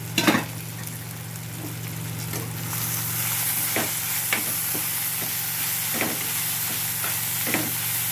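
Tomatoes fry in oil in a pan with a continuous loud sizzle and hiss, while a spoon scrapes and taps against the pan at irregular intervals.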